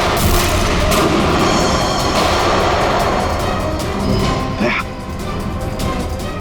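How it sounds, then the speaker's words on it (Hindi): Loud, dense bursts of gunfire and booming blasts run continuously, with a chaotic, rumbling background and occasional shouting voices. "गोलियां चला कौन रहा है?"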